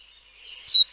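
A robin's song plays from a recording, a short bright chirp and twitter that swells into one loud high note near the end, then fades.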